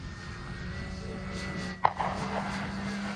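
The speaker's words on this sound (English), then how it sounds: "So far, from what I can tell, this plane handles the wind really well." A Flex Innovations RV8 60e electric radio-controlled model airplane flies in wind, giving a faint, steady electric motor whine at a distance, with a brief sharp knock midway and light wind noise underneath.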